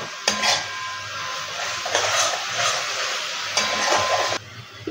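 Spices sauté in a pan for chicken maharani, with a steady hiss of frying under several scraping, clinking stirs of a utensil against the pan, close and fairly loud.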